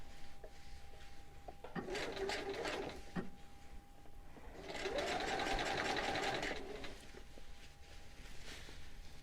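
A sewing machine stitches in a replacement zipper in two bursts of rapid, even needle clatter, close and fairly quiet, with a short pause between runs.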